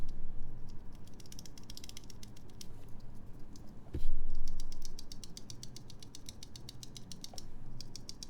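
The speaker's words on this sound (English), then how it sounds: "Let's just do a quick typing here" Rapid clicky keystrokes on a stock mechanical keyboard fitted with Cherry MX Black Clear Top switches, bursts of close typing with short pauses and one sharp knock midway.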